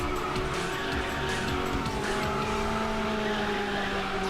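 Racing cars in the game Ridge Racer 6 roar under nitrous boost, a steady loud engine drone with tire squeal and skidding layered over it throughout.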